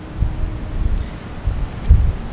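Strong wind buffeting the microphone outdoors at a graveside service in Edmonton, Alberta, a low rumbling roar with gusts that swell and fade.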